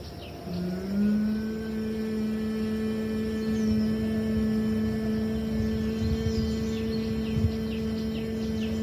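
A single steady, low nasal hum rises in at the start of a long exhale during bhramari bee breathing pranayama and holds unbroken and close for the remaining seconds.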